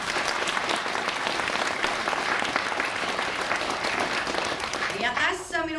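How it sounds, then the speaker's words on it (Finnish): A concert audience applauds a folk fiddlers' ensemble in a dense, steady burst of clapping that fills the room, fading as a voice begins speaking at the very end. "Annetaanko yhdet aplodit?"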